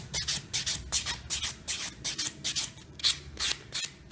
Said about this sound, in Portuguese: aí finalizo com a lixa bloco